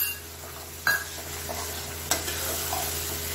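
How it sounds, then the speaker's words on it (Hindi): Masala paste frying in a pan for paneer butter masala while it is stirred: a steady close sizzle with two sharp scrapes of the spoon against the pan, and no talking. "अब हम ये मसाला अच्छे से भूनेंगे"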